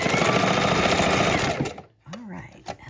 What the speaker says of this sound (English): let's sew down that little bit while we're done